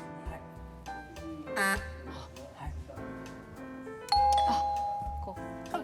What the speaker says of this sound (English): Try pushing the doorbell.